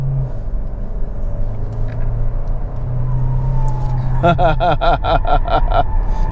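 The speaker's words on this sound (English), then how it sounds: "time for a quick stint on the interstate, but first, an even quicker handling test" Kia Sportage Hybrid SUV in a brisk handling test, with a steady engine and road rumble that rises partway through, then a burst of rapid pulsing tire squeal or chatter near the end.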